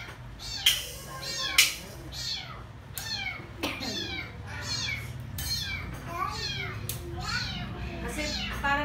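Rescued kittens meow repeatedly in short, high, close calls over about nine seconds, some sharp and loud, with a voice and other talk faintly mixed in behind them.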